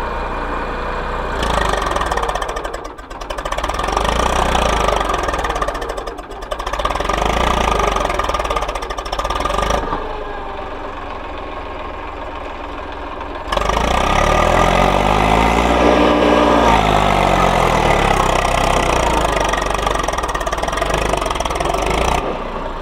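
Eicher 333 Super Plus tractor engine running steadily while hauling a loaded trolley with dirt, a loud continuous idle-like rumble with brief dips and a stronger surge in the second half, with no talk.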